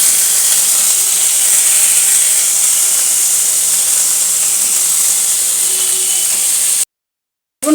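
Chickpeas and spices sizzle loudly in hot oil for a vegetarian pumpkin dish, a steady close hiss that runs unbroken and then cuts to a brief silence near the end.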